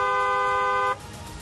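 A vehicle horn honks in one steady, loud tone for about a second, then cuts off, leaving faint road noise.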